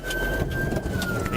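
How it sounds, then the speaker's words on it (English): Police car siren, a steady high electronic tone sounding continuously from close by over low engine rumble and background noise. "Putting the car back into drive automatically reactivates the siren."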